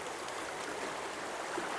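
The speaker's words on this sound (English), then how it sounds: "you can see this water is just barely trickling through these gates" Low water flow through the gates of a dam on a draining lake gives a steady, even rushing wash with no breaks and no voices.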